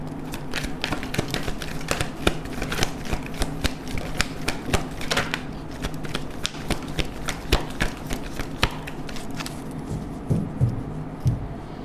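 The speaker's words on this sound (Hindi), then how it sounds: "एक ही शफल करूँगी हमेशा की तरह" Tarot cards are shuffled in a steady stream of quick crisp riffling taps, close and moderately loud, continuing without a break and then thinning out near the end.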